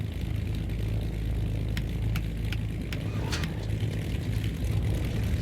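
A Beechcraft Baron BE58 piston twin in the X-Plane 12 simulator runs steadily as its number 2 propeller engine starts, giving a constant low rumble with a few faint clicks above it and no talk.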